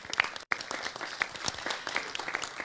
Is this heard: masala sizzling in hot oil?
no